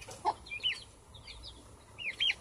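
Chickens give soft, scattered clucks and short chirpy calls at a little distance, faint over a low background rumble.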